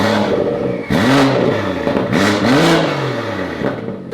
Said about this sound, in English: That's the cold start, all the way turned down.